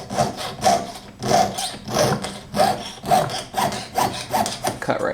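A jeweler's saw cuts through metal in quick, even back-and-forth strokes, about two each second. The rasping sound is close and steady and heard on its own.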